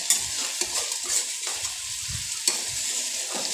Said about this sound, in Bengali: একটু নাড়তে হবে, ভালো করে মিশিয়ে নিতে হবে পটলের সাথে পুরো মশলাটাকে